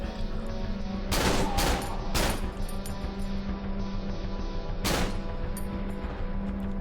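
Pistol and shotgun fire in the horror game Cry of Fear: several loud, sharp gunshots in an irregular pattern, two close together early, one more shortly after, and a final blast later, all over a steady low hum.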